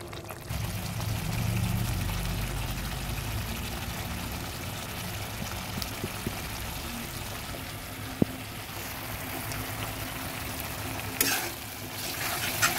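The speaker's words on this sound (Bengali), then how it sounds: "এবার কিছুক্ষণ ফুটতে দেব।" Doi katla, a katla fish curry in curd, simmering in a pan, giving a steady low bubbling hiss that runs unbroken and alone at moderate volume.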